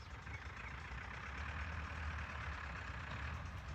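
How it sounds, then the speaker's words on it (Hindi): A vehicle reverses along a narrow, flooded village road, its engine making a low, steady rumble at a moderate distance with no voices. "इस वजह से उन्हें गाड़ी पीछे करना पड़ रही है।"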